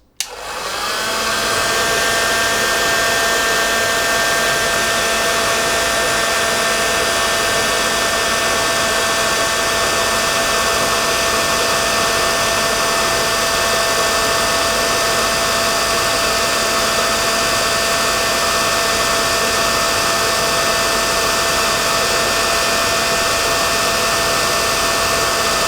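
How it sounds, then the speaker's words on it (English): A heat gun melts the base of a figure, producing a loud, constant, airy roar with a faint hum. It starts at once and runs steadily and close for the whole stretch. "here I am back with the figure prepared for the heat gun. Okay, I will start to heat the base"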